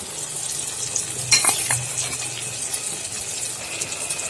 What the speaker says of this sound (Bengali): পেঁয়াজটা ভেজে নেওয়ার পর দিচ্ছি বড় সাইজের 2টো টমেটো কুচি। তারপর দিচ্ছি আদা, কাঁচা লঙ্কা, রসুন বাটা 1 চামচ